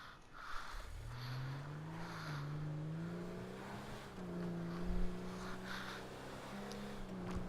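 The Romero hearse in GTA Online drives along a road, its engine droning steadily and shifting pitch as it accelerates and eases off, close and continuous with no talking.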